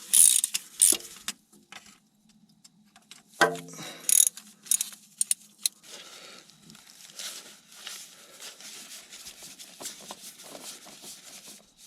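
A hand ratchet loosens the oil pan bolts on a Pettibone crane, clicking in short, close bursts separated by pauses as the tool is repeatedly reset, with faint clanks in between.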